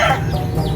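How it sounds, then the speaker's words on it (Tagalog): Chicks peep and cheep continuously, close by, over a low clucking hen, with no talking. "Tama yung huni ng yung mga sisiw na manok."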